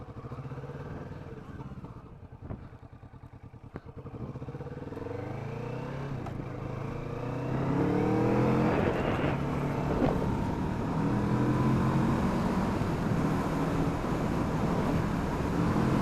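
A motorbike rides along a coastal road near the town of Burntisland, its engine droning steadily and growing louder and rougher partway through, with road and wind noise underneath.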